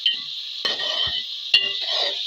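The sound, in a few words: stirring and frying chicken masala with ginger-garlic paste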